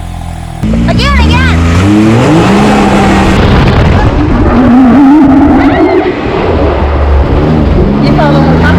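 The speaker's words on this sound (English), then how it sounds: "Darren's getting ready to go do a before burnout right now." Car revving hard during a burnout, a loud near engine climbing and falling in pitch with tire noise, voices faintly mixed underneath.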